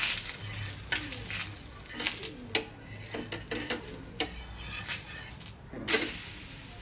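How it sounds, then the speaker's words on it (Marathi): A thalipeeth flatbread is flipped and roasted on a pan, with soft sizzling under irregular scrapes and taps from a spatula, fairly quiet and close. "थालीपीठ आपण आता हे उलटून घेऊया"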